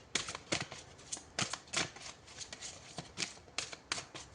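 Tarot cards shuffled by hand close up, a steady run of sharp riffling and slapping bursts repeating about every half second, with no voices.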